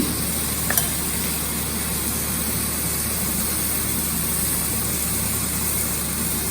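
Cumin powder and turmeric hit hot oil in a pan while cooking Gujarati daal dhokli, giving a steady, even sizzle throughout with one faint clink near the start.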